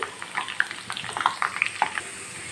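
Bitter gourd pieces frying in a pan, with soft sizzling and scattered light crackles and pops over a low steady hiss, close and fairly quiet.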